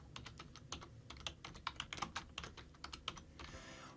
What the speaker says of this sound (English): I'll just type in the company name